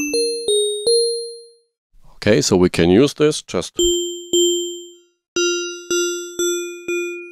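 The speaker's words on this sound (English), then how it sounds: "it sounds like a bell" Bell-like FM synthesizer tones from the Halion Sonic SE FLUX wavetable synth in Cubase struck repeatedly, each ringing and decaying, with a short stretch of speech in the middle before the bell tones resume in a steady rhythm.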